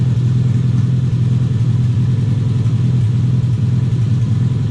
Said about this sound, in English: That thing's insane, guys. Holy crap. That's like the loudest car ever.